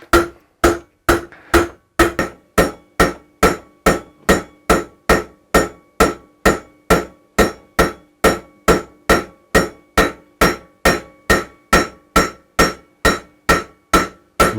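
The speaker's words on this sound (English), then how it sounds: "I'm using the old bearing to smash in the new bearing, and I'm tapping very gently and I'm going side to side" Old wheel bearing used as a driver to tap a new wheel bearing into a Yamaha FZ6 Fazer wheel hub. About two dozen steady, evenly spaced metallic knocks, roughly two per second, ring out close and clear with no talking.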